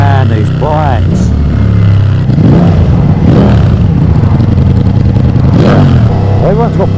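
A Ducati Diavel V4 fitted with an Akrapovic full race exhaust, heard riding with a steady engine drone and occasional throttle swells. Someone talks over it throughout.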